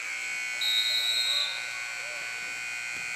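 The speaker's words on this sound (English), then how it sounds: "And Cruz Martinez tried to find Boyd to go for a half-court shot to beat the buzzer" At the end of a period in a women's college basketball game, ELAC Huskies versus Long Beach, a single flat electronic buzzer sounds for under a second, loud and clear over the gym's background hum.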